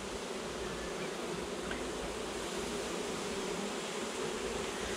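Honeybees buzzing steadily and densely during an early spring hive inspection at an apiary, a continuous close insect drone with no voices.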